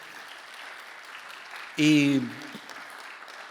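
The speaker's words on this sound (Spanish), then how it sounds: "Vamos a darle un fuerte aplauso." A church congregation applauds for mothers on Mother's Day during a pastor's sermon, a soft, continuous wash of clapping that runs under a short, loud voiced exclamation partway through.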